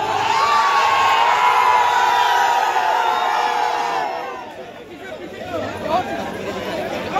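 A large outdoor crowd gathered for Akhilesh Yadav's helicopter arrival, loud and sustained cheering and chatter with shouts and whoops, dipping briefly near the end before swelling again.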